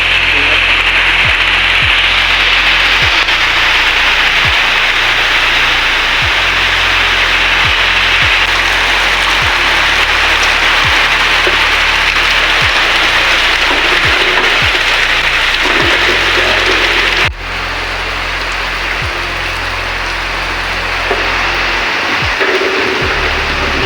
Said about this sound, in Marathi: पाऊस तर जोरात पडतोय